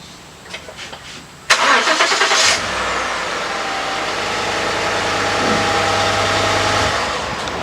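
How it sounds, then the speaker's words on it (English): A truck engine cranks with a brief whir, catches with a sharp burst and settles into a steady, close idle. Faint clicks come before the start. "start the truck up and turn it to the right"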